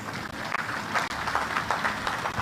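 Audience applause at a formal state event honouring the Prime Minister of the Arab Republic of Egypt, a steady, dense wash of clapping from a large crowd with no talk over it.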